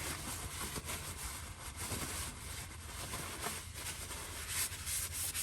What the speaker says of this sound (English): Wiping off the hoses here.